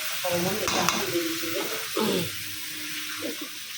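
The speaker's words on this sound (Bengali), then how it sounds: "প্রথমে বেগুন আর আলুটা একটু কষাই থাকে" Eggplant and potato pieces sautéing in a pan for a home-cooked Bengali curry, with a steady sizzle under bursts of stirring and scraping from a spoon against the pan, close and moderately loud.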